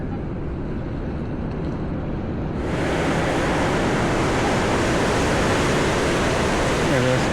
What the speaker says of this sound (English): Hopefully I don't get hammered by this water coming up.